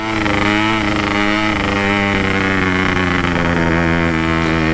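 A Yamaha RX King motorcycle pulls a broken-down Vespa in first gear, its two-stroke engine droning loud and close at a steady, even pitch with a slight rise partway through.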